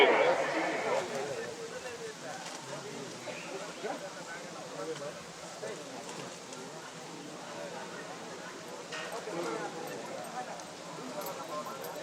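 Racehorses gallop in a horse race, with a busy rumble of hooves under an excited, continuous commentary and crowd noise throughout.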